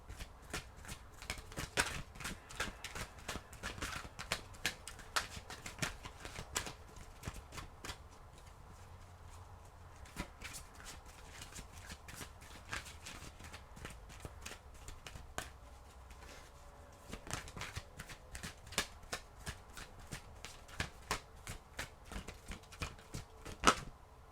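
Oracle cards are shuffled close up in a steady run of soft riffling and flicking, with frequent sharp slaps and shuffles and no voices, lasting about twenty-four seconds.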